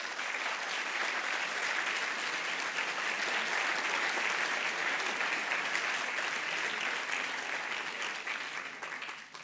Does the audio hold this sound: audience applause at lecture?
yes